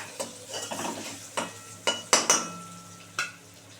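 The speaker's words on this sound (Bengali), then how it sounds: "দিয়ে এটা একটু ভালো করে ভেজে নেব আলুটা ভেজে নিয়ে তারপরে ওলগুলো দেব" Potatoes fry with turmeric in a pan under a low crackle, while several sharp spatula scrapes and clanks against the metal stand out.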